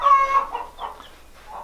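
Baby chicks (pullets) in a cardboard box make soft, close cheeps and peeps, a few short calls with gaps between them in a quiet space.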